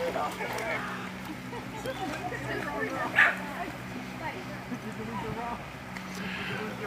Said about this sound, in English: Lucy's not real happy with our neighbor's dog.